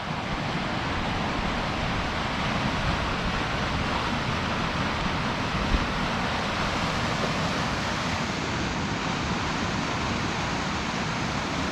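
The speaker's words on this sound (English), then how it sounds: "I love this river." Steady, broadband rushing of a mountain river in Washington's Alpine Lakes Wilderness, continuous and fairly close, with no voices and little change in level throughout.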